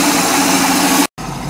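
An OMC 230 Stringer 800 inboard engine in a 1981 Sea Ray SRV200 boat idles at about 700 RPM, a loud, close, steady rumble that cuts out for a moment before resuming.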